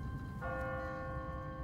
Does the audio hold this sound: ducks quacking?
no